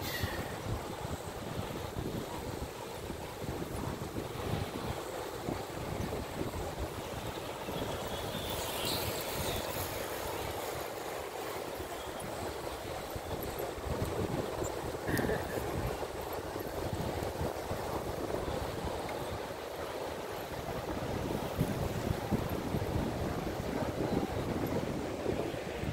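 Wind and surf on a Pacific Coast beach in San Francisco, a continuous broad roar of breaking waves mixed with gusty wind buffeting the microphone, steady and fairly loud throughout with no voices.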